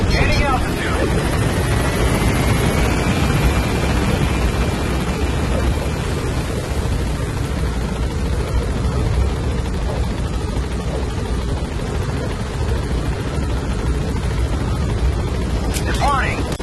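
The Pequod helicopter from Metal Gear Solid V whirs in a steady, loud rotor wash while gaining altitude and departing, with a radio-style voice speaking over the noise.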